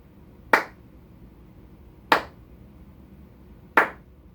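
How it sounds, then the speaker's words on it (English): Three slow, deliberate hand claps spaced about a second and a half apart, each sharp and isolated against near silence, close and moderately loud. "Slow clap for you."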